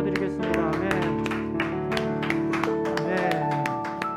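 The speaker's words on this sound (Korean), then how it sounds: "하나님께 영광의 박수 올려드리겠습니다" Applause at a church youth service, a short burst of clapping from a congregation mixed with sustained instrumental music underneath.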